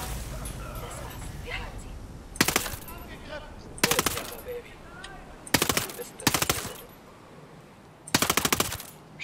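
Gunfire in the tactical shooter Ghost Recon Breakpoint: five loud bursts of rapid automatic fire, spaced a second or two apart, between quieter stretches with someone talking over game ambience.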